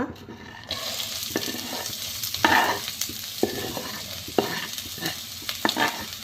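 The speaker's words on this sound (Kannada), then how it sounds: "ಈರುಳ್ಳಿ ಚೆನ್ನಾಗಿ ಕಂದು ಬಣ್ಣ ಬರೋವರೆಗೆ ಹುರಿಬೇಕು" Onions frying in hot oil in a pan, a steady sizzle breaking out after a quiet first moment, with repeated scrapes and clatter of stirring. No one speaks.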